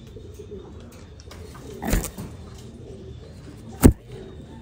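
American Giant Runt pigeons coo softly at a Vietnamese breeding farm, low murmuring calls over quiet background with two sharp louder bursts, no talking.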